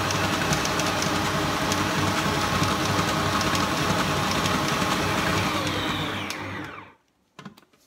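A stand mixer kneads chocolate brioche dough with a loud, steady motor whir and rhythmic churning that runs for about seven seconds before the machine winds down and stops, leaving a few faint clicks.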